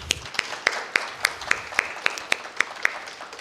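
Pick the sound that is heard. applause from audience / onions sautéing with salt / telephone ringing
applause from audience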